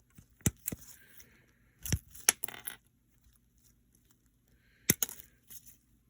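Scissors cutting duplicate parts from a sheet while building a plastic model kit, a few sharp close snips and clicks in small clusters separated by quiet pauses.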